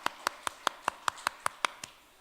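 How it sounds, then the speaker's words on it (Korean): A church congregation applauds newly baptised members at a Christmas service, a sparse, steady run of about ten distinct claps heard faintly at a distance, slowing and fading at the end. "우리 박수로 축하하도록 하겠습니다."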